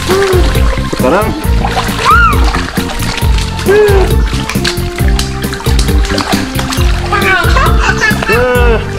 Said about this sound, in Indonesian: Sekarang kita berenang teman-teman.